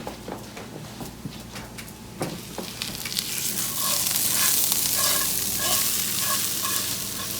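Steady sizzling and scraping as food is stirred and shifted from a hot frying pan into a dish, building louder midway with clinks of utensils and no talk.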